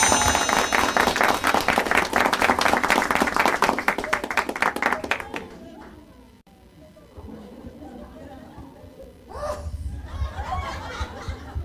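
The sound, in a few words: applause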